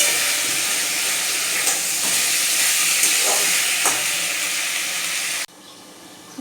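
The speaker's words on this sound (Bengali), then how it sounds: "মাংসটা কষানো চলছে" Chicken pieces sizzle in a pan with a little oil, turmeric and salt while being sautéed for a curry. A loud, steady hiss of frying holds until it drops suddenly near the end, as if a lid were placed on.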